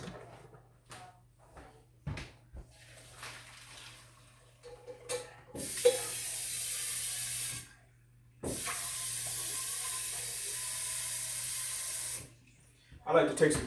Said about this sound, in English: I like to take some cold water and pour on those noodles so they don't continue to cook.